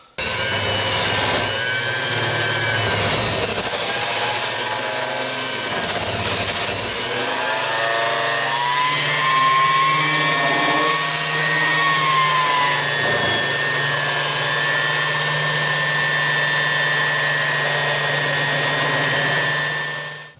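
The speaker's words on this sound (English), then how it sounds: "I'm going to go ahead and sand the rest of it." A power sander works a metal sheet being prepared for a mini jeep gas tank, giving a loud, continuous whining grind that shifts in pitch as it moves across the surface.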